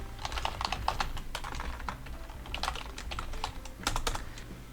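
Fast, steady typing on a computer keyboard while writing a document in Word, close and clear with rapid irregular clicks throughout and no talking.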